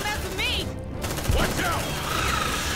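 Gunfire from the squad tactics game Aliens Dark Descent plays as a steady, close clatter of rapid shots layered over droning background noise, with a sharper thump partway through.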